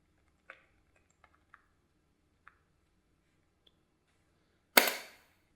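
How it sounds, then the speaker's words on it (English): Several sparse, sharp keyboard key presses sound while a password is typed during a Windows installation, spaced irregularly and quiet, followed by one louder, longer clack near the end. "I'm typing a password."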